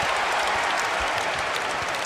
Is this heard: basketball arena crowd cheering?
yes